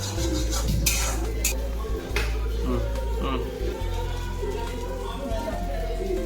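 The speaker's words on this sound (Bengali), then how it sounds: "এটা নাড়বো, তারপর তুলে দেব।" Bengali jute leaf curry stirred in a pan, with scraping and clinks of a utensil against metal over a steady low background hum and light sizzle, near and fairly loud.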